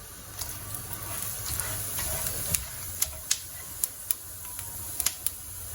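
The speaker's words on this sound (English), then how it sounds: "As soon as you hear the crackling sound, you can start adding the remaining ingredients." Cumin seeds crackling in hot oil in a pan on an Indian home stove, an irregular scatter of sharp little pops over a soft sizzling hiss, close by and moderately loud.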